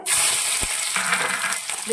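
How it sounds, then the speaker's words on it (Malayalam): A lump of asafoetida frying in hot oil, a loud, close, hissing sizzle that bursts in at once and crackles on steadily for a couple of seconds. "ആ എണ്ണയിലേക്ക് ഒരു കട്ടക്കായം കൂടി ഇട്ടൊന്ന് മൂപ്പിച്ചെടുക്കുവാണ്"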